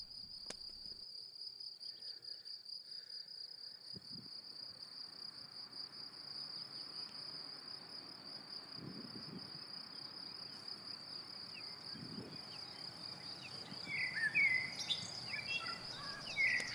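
Steady, high-pitched cricket chirring runs unbroken throughout, with faint bird calls near the end and occasional soft rustles.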